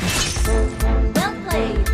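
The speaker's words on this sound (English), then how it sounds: "Your team destroyed the turret!" Turret destroyed in the Mobile Legends video game, a short burst of shattering and crashing game effects with layered synthetic impacts over under two seconds, loud and close.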